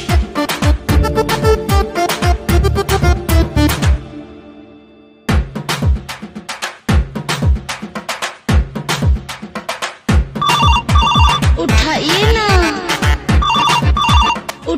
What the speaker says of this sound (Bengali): এই সময় আবার কে ফোন দিল?